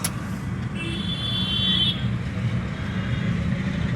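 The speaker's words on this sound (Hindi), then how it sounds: "अब ये गाड़ी निकलेगी" A car pulls away on the road during a driving lesson, its engine and road noise forming a steady, moderately loud drone with a faint higher whine early on.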